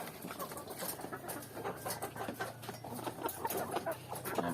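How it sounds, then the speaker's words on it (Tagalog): Several chickens cluck and chatter together in a busy, continuous flock, with scattered sharper calls over a steady low background hum. "Dito muna tayo sa pag-aalaga ng manok."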